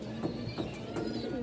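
Pigeons coo at a pigeon market in Mirpur-1, Dhaka, a steady low murmur of several birds with soft repeated coos and a few faint chirps, close by and without talk.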